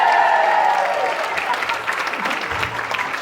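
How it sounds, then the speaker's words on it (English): Indoor audience at a Gateshead show bursting into loud applause and cheering that gradually eases off, dense clapping filling the room with a few shouts mixed in. "let's try again and see if we get a more welcoming cheer"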